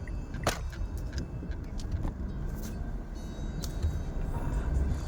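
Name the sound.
heavy road traffic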